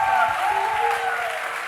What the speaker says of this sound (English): Can you clap hands for Carmen?